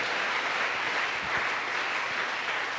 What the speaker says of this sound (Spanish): Dele ese fuerte aplauso con todo el corazón.